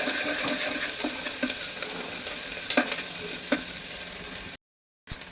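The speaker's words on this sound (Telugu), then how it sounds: "తర్వాత ఉల్లిపాయ, పచ్చిమిర్చి, కరివేపాకు మూడు వేసి ఫ్రై చేసుకోవాలి." Onion, green chilli and curry leaves frying in hot oil for a ridge gourd and tomato dal: a steady close sizzle with several sharp spatula clacks against the pan, then a short silence and a resumed burst.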